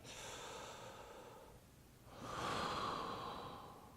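Slow, deep breathing during a yoga stretch for knee pain relief, close and soft: a long exhale, a brief pause, then a fuller inhale, with no talking.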